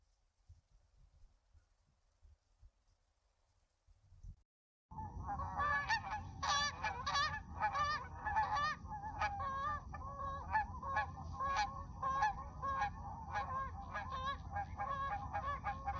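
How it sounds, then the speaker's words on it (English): A flock of migrating Canada geese honks steadily and loudly, many overlapping calls at close range, beginning abruptly after a few seconds of near silence and continuing without pause. "This flock of Canada geese is likely setting out for a long journey"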